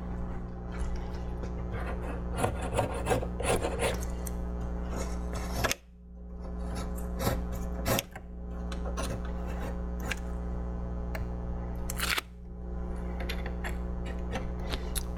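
A knife scrapes and trims the rough edge of a fiberglass sun deck in repeated rasping strokes with brief pauses between passes, close and clear with no voices.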